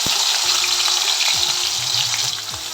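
Pumpkin leaves hit a hot pan over low heat and sizzle loudly and continuously, a dense close crackle with faint stirring scrapes.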